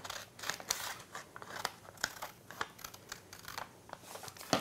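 Scissors snip through muslin fabric being trimmed for a 1950s halter dress pattern, a run of sharp irregular close cuts with small rustles between them, quiet and without talking.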